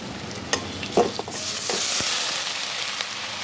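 Garlic and bay leaf sizzle steadily in hot oil in a pan, with a few sharp scraping stirs early on over a continuous frying hiss, close and fairly loud, no voices.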